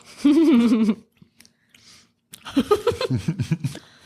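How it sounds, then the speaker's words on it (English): Close, wet chewing of a scone with jam, with soft crunching and mouth sounds between stretches of nearby talk. "now I have a mouthful of scone"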